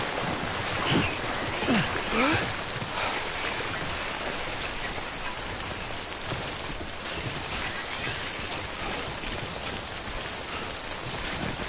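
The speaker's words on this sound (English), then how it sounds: "Don't stay out in the rain any longer than you have to." Rain falls steadily in a video game, a dense, continuous hiss of drops with a few faint brief tones mixed in.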